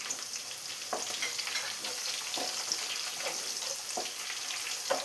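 Chopped curry leaves and green chillies fry in hot oil in a pan for a mango and carrot pickle, a constant close sizzle with a few soft stirring scrapes and no voices.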